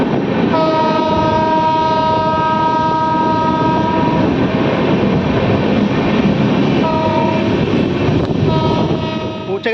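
The Santiniketan Superfast Express 12337 rumbles loudly into Bolpur station and sounds a long horn blast, then two shorter ones over the constant rail noise.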